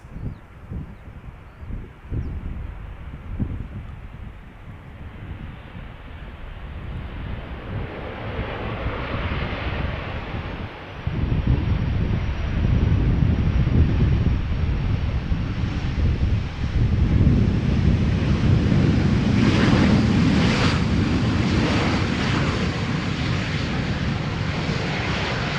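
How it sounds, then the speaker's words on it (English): KLM Boeing 737-800 arriving at Schiphol from Paris Charles de Gaulle, a jet roar that builds from distant rumble to a loud sustained engine noise with wind buffeting as it passes close. "This is KLM flight 1402, arriving from Paris Charles de Gaulle, 737-800."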